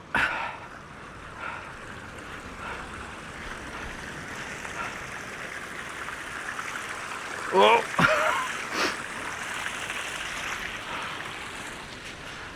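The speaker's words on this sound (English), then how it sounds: "The river's literally flowing out from underneath the base of the cliff." A river gushing out from beneath the base of a cliff on an Irish coastline, a steady close rushing of water that continues throughout, broken once by a short exclaimed voice.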